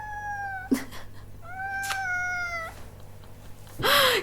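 Female cat meowing indoors, two drawn-out complaining meows followed by a shorter sharp one, close and fairly clear over light room noise.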